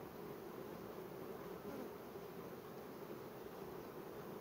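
Constant, dense buzzing of many honey bees at an open hive, a soft steady hum with no breaks and no voices.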